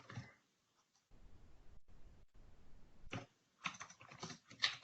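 Quiet, close typing on a computer keyboard during a software demonstration, with short runs of key clicks separated by brief pauses and a denser burst of keystrokes toward the end.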